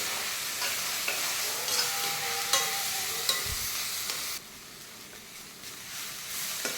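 Egg fried rice with white pepper and tomato sauce being stirred in a pan, a steady sizzling hiss with scraping spoon strokes throughout, fairly close; the frying fades somewhat toward the end.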